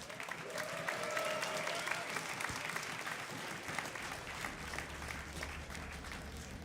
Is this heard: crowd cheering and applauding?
yes